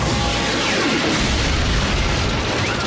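Gunfire and explosions from a battle in the Transformers Prime cartoon form a loud, dense, unbroken wall of booming blasts and crackling bursts.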